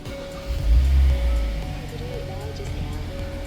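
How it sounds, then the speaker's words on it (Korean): A Hyundai Grandeur IG, a used sedan in clean accident-free condition, cranks and starts its engine, a low rumble swelling in the first second and then settling into a steady idle hum with a faint tone above. "시동을 켜볼게요."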